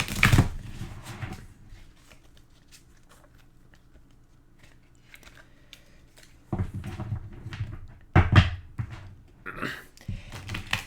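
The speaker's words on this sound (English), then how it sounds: "So you shuffle the deck, which I will do here." Someone shuffles a deck of playing cards up close for a board game, with soft riffles early on and then sharper, louder riffling and card snaps in bursts near the end.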